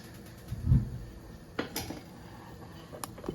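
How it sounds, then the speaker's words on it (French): A ladle dips into a pot of pasta cooking water, giving a low splash and a few light metallic clinks against the pot in a quiet kitchen. "Je vais prendre à peu près une louche d'eau de cuisson de pâtes"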